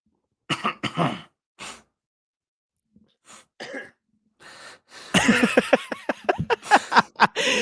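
Several sharp coughs and throat-clearing bursts come in short clusters separated by silence, ending in a fast run of quick, close coughing.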